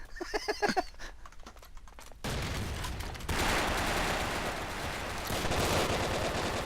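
Gunshots in the video game Brick Force start as a few quick separate cracks, then give way to a loud, continuous wall of overlapping gunfire and battle noise.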